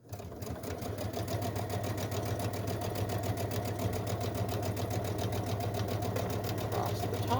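A sewing machine runs steadily, stitching the seams of a Los Angeles Dodgers-themed WhHIPpersnapper, with a continuous rapid mechanical chatter and hum held close and even throughout.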